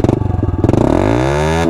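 A Honda CRF110 dirt bike fitted with a new exhaust fires up close by, first sputtering and clattering, then settling into a steady, loud idle drone.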